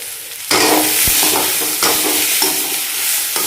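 Onion, tomato and cashews sizzle loudly in a hot pan, a bright steady frying hiss that jumps in abruptly, with brief stirring scrapes and clinks and no talking.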